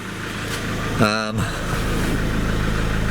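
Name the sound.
Mahindra Pik Up turbo diesel engine idling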